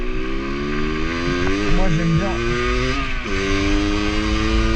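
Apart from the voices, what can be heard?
50cc moped engine revving while riding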